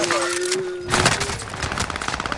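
Call of Duty Warzone gunfire crackles in quick, dense bursts under a player's excited voice, with steady game noise throughout.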